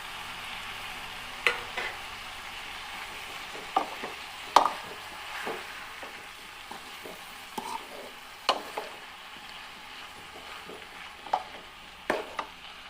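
Ripe tomato pieces frying in a pan of brinjal curry, a soft continuous sizzle broken by irregular clinks and scrapes of a spoon stirring, close and moderately loud, without speech.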